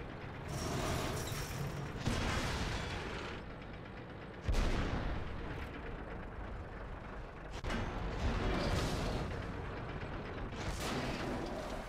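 Tank cannon fire and grinding tank mechanics in World of Tanks, a T110E4 in combat, with loud heavy blasts around two, four and a half and seven and a half seconds over a dense rumbling, clanking mechanical bed.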